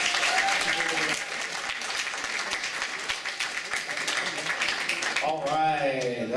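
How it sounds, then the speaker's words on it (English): Convention audience at a City of Heroes player summit costume workshop breaking into applause, a dense sustained clapping from a crowd, with a voice speaking over it at the end. "Let's give a round of applause."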